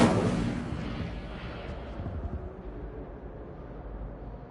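The Incendio fire spell is cast in Hogwarts Legacy, a sudden loud whooshing burst of flame that rumbles and crackles before dying away over a few seconds.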